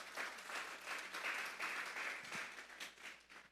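A church congregation applauds together, a steady wash of many hands clapping at moderate distance, sustained for a few seconds without a break.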